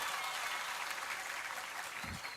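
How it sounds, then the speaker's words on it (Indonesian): Audience applause at a religious commemoration event in Indonesia, a dense, steady wash of clapping from a large crowd that fills the whole stretch, with no talk over it. "Tepuk tangan dulu."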